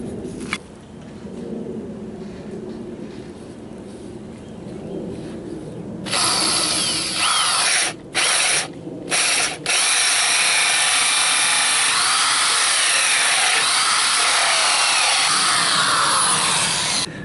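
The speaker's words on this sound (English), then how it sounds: "Now we're going to use our 2 1/8 inch hole saw." A power drill with a 2 1/8 inch hole saw grinds steadily and loudly through a wooden door, briefly stopping twice before a long continuous cut.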